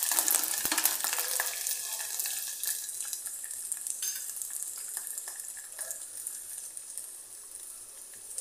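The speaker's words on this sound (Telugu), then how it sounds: "వెల్లుల్లి రెబ్బలు కూడా 1 or 2 మినిట్స్ ఆయిల్లో డీప్ ఫ్రై చేసేసుకోవాలి" Garlic cloves deep frying in oil give a steady, bright sizzle throughout, with faint stirring clinks and crackles near at hand and no talking.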